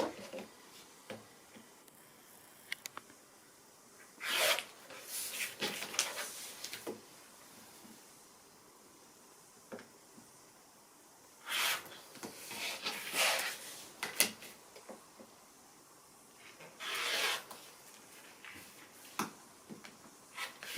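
Scissors or a rotary cutter trimming the edges of a foundation-pieced quilt block, heard as intermittent close crisp cutting bursts separated by quiet pauses.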